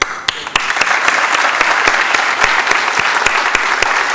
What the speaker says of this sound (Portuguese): Esta salva de palmas também é para vocês